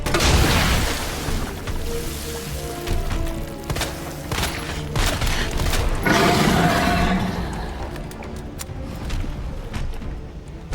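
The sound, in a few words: grenade launcher fire in a video game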